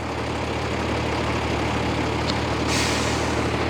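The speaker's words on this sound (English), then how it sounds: "Park brakes on." A truck's park brake set during off-road winching: a low, steady idling engine rumble, then a sudden loud burst of air-brake hiss near the end that continues over the idle.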